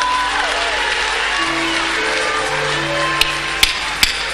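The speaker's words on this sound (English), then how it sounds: "Now he's clapping." Sustained crowd applause and clapping at a church service, with a broad wash of hands, faint tonal sounds beneath and a few sharper claps standing out near the end.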